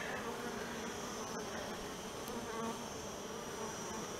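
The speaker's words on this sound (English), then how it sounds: "these are good bees, aren't they?" Honey bees drone in a dense, continuous buzz during a beehive inspection, a steady close swarm hum with no voices over it.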